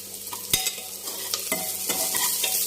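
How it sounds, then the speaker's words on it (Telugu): Onions and ginger garlic paste frying for a potato brinjal curry, a constant sizzle punctuated by sharp clacks and scrapes from stirring, close up with no talking. "ఉల్లిపాయ వేగిన తర్వాత అల్లం వెల్లుల్లి పేస్ట్"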